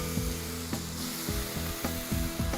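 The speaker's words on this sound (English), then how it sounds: "and then in with our paste. Stir fry them together." Thai curry paste stir-frying in a hot pan: a continuous close sizzle broken by repeated knocks and scrapes of the utensil against the pan, in an uneven rhythm.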